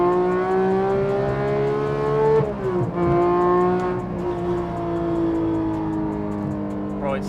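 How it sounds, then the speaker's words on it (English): A Porsche GT3 Touring with a 4.5-litre engine and manual gearbox pulls hard through third gear, its engine note climbing steadily, briefly dipping, then holding a strong high-revving drone heard from inside the car. "Third gear, I'm gonna do one pull through third, go."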